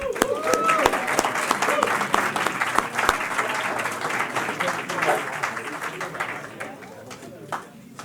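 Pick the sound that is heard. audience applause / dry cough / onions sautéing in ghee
audience applause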